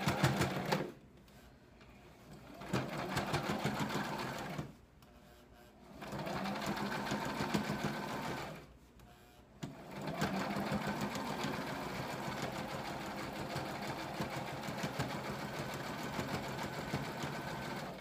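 A sewing machine stitches a pillowcase into a gathering apron, running in steady rattling bursts with three short pauses and then a longer continuous run, close and fairly quiet.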